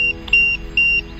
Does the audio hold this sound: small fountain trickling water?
no